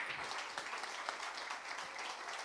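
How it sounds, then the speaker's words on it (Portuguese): A church congregation claps joyfully during a live Saturday worship service, a steady wash of many hands sounding fairly faint and distant, with no talk over it. "com as palmas bem alegres para o Senhor"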